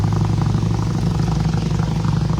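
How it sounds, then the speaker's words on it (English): A motorbike on the road nearby gives a loud, continuous engine drone that stays steady for the whole stretch, with no voices heard. "I wish we could lose this motorbike."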